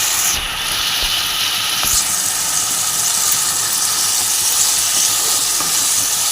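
Water poured into a hot pan of ridge gourd and potato hisses in a loud, continuous steamy sizzle that fills the whole moment.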